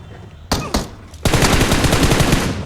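Loud, close bursts of gunfire in the game PUBG Mobile: a couple of single shots, then a rapid automatic volley with sharp, rhythmic cracks.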